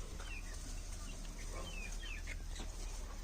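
Two-month-old Giriraja chicks in a flock of about a hundred birds for sale, cheeping and clucking in a dense, continuous chorus with short high chirps scattered over steady background noise.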